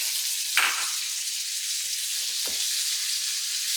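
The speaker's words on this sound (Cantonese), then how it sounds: "係啦，煎炒蝦仁咧，" Butterflied shrimp frying in oil in a wok for Cantonese fried rice, a bright continuous sizzle close by, punctuated by a couple of quick scraping stirs.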